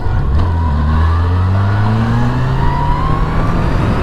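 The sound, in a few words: Yamaha FJR1300 motorcycle accelerating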